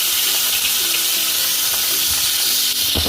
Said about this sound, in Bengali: এবার এই পমফ্রেট মাছগুলো ম্যারিনেট করে রেখেছিলাম সেগুলো দিয়ে দিলাম